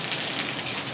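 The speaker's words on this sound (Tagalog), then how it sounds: "Ang lakas ng ulan sa amin dito." Heavy rain pours steadily outdoors in a corn-farming area under a dark sky, a dense close hiss of drops drumming on surfaces with no break.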